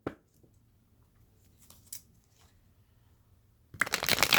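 A brief riffle of tarot cards at the start, a few soft handling taps, then a loud burst of rapid tarot shuffling near the end; no talking.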